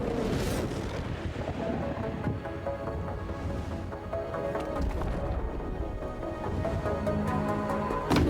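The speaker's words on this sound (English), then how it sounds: "Those are good explosions." Heavy booming explosions and rumbling blasts from a video game trailer, layered with dramatic music, loud and continuous, with sharper impacts cracking through near the end.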